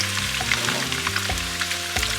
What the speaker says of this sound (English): we saute some onions like that. Saute the onions for 2 minutes